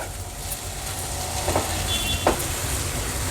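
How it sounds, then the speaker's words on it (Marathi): Red okra (bhindi) stir-frying on a tawa over low flame gives a steady broadband sizzle, with a couple of faint stirring scrapes near the middle and no voices. "मीठ ॲड केल्यानंतर पुन्हा ही भेंडी परतून घ्यायची आहे"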